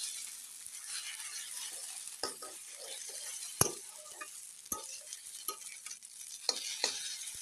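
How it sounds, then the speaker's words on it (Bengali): Maggi noodles frying in a pan with a steady soft sizzle, broken by occasional stirring scrapes and light clinks of a spatula against the metal, close and moderately quiet with no talking. "এগুলোকে একে অপরকে ভালো করে ভেজে নেবো"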